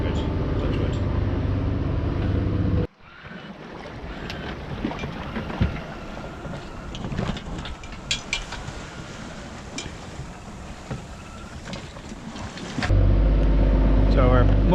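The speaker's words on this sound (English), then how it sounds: "So we're motor sailing, but really mostly motoring." A sailboat's engine motoring along the Spanish coast near La Guardia, a steady low drone with wind noise across the microphone and a voice talking over it.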